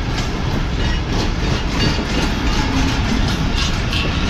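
Karakoram Express coaches, a mixed rake including a Fareed Express car, rolling along with a steady broadband rumble and faint clickety-clack of wheels over rail joints, loud and continuous throughout with no talk.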